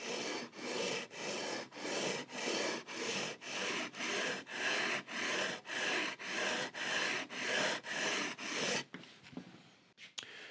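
A leveling tool rasps back and forth across the frets of a Telecaster guitar neck in about fifteen even, rhythmic strokes, close and clear, followed by light handling noises.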